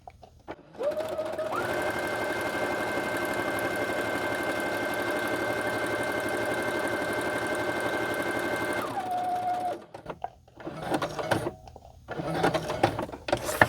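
A sewing machine stitching through a paper greeting card, a close, steady mechanical whir running for about eight seconds with a pitch shift as it speeds up and slows, then stopping, followed by rustling handling noises.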